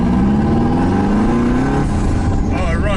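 An LS V8 swapped into a Mazda Miata idles and revs loudly up close, a steady engine drone with rising pitch that drops off near the end, with a voice speaking over it.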